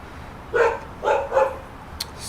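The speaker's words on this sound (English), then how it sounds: "sorry if you can hear my dog barking" Three quick dog barks close together, fairly near and moderately loud, with a faint short click after them and no talk.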